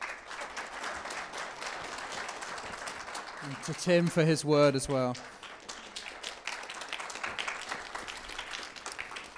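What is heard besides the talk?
audience applause at church service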